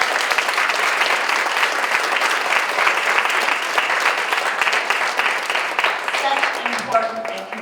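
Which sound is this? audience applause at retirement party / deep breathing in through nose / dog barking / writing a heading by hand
audience applause at retirement party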